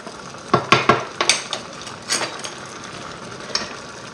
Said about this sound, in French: on va retourner notre viande